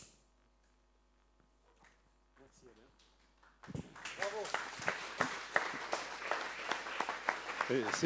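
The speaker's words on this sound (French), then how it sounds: "C'est toi qu'on applaudit là." Applause breaks out from an audience at a viticulture and agroecology day in Marciac, loud dense clapping rising suddenly after a few seconds of near quiet with scattered voices, continuing steadily with talk and laughter mixed in.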